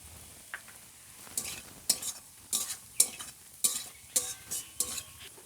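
Onion and green chilies fry quietly in a pan, with a soft sizzle under a series of sharp metallic scrapes and taps from a spoon against the pan.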